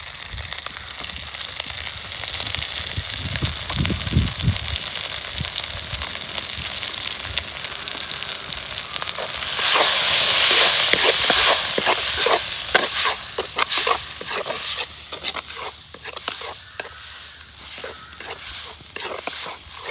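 Masala frying in a pan for pepper chicken gravy, with a soft sizzle that swells into louder crackling and scraping strokes of stirring midway through; a voice speaks briefly near the start.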